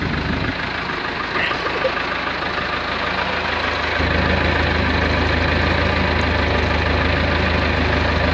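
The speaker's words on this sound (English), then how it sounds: "And we started a tractor." A small Belarus T-40A tractor engine idling after being started, a steady low diesel rumble with a knocking pulse that grows slightly louder and fuller partway through.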